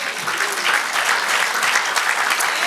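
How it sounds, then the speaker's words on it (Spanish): A church congregation applauds during a Spanish-language sermon, with dense, steady clapping from many hands filling the whole stretch, loud and close with no pauses. "Dele aplauso al Señor."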